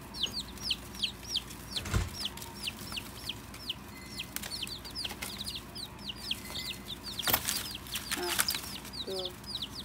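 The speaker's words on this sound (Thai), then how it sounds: "ซื้อไก่มาเลี้ยงเองนะคะ" Backyard chickens kept for eggs at a garden home in America cluck in quick, repeated bursts, fairly faint and steady throughout, with a few scattered knocks and noises in the background.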